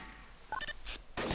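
Gunfire from the multiplayer shooter Trouble in Terrorist Town, a burst at the end of a short moment of game noise with a few small tones and thumps before it, fairly loud and with no talk.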